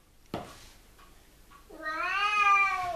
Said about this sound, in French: Balou, c'est mon chat qui fait le con.